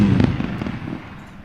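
A fireworks sound effect triggered on a live day-trading stream, a loud low burst that fades out quickly over about a second and a half, with no talk.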